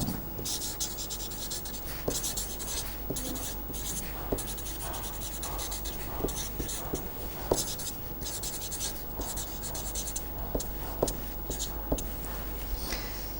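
Pen or chalk writing out the properties of a norm for a lecture, with steady scratchy strokes and repeated taps across the surface, close and continuous, with no talk over it.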